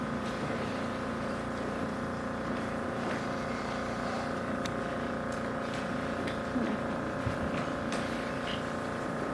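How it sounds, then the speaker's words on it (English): A vacuum pump evacuating air from a chamber runs with a steady, droning mechanical hum, constant and fairly loud throughout with no breaks. "If we continue to pump the air out of this thing"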